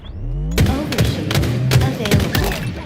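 Rapid gunfire bursts crackle in the video game Halo Infinite, several sharp volleys with thuds in a short, dense exchange, loud and close.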